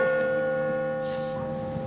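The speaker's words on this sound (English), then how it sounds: "This entire street shakes with the sound of that bell." The big bell of St. Nicholas's Church rings out, a sustained resonant hum with long overtones filling the street, loud and steady with no voices.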